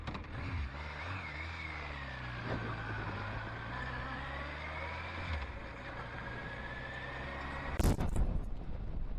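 A Suzuki GSX1400 motorcycle riding down the road, its engine droning steadily with rising and falling pitch as it accelerates and shifts, plus a sharp burst of wind or exhaust buffeting near the end.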